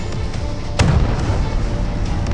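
Warship gunfire in the naval combat video game Battle of Warship, a sharp boom near the start of a constant rumbling low engine and sea noise, with fainter shots further off.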